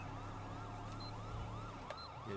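A police car's dual sirens wail in a video game, sweeping up and down in a steady, repeating cycle, loud and continuous over a low engine hum.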